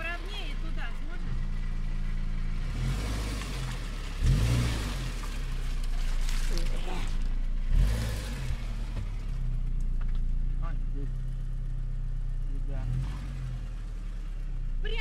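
A Subaru car engine drones and surges steadily while the car churns through soft, soaked mud in a forest, with a couple of louder bumps, and people talk over the running engine.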